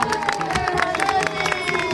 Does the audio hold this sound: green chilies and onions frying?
no